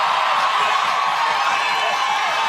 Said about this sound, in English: getting huge support from the crowd